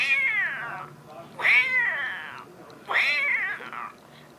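A voice imitates two cats fighting: three drawn-out, wavering yowls with growling between them, loud and close.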